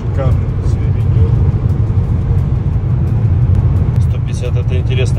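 Inside a chip-tuned Mercedes-Benz GLA 180 cruising at about 150 km/h on the autobahn, a steady low road and engine rumble fills the cabin while people talk over it.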